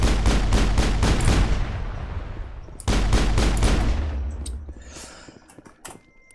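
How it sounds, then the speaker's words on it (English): Rapid bursts of shotgun fire in the Mass Effect video game, loud close blasts in a quick regular volley, a pause, then another volley trailing off into scattered fainter shots and echoes. "Stupid inaccurate shotguns."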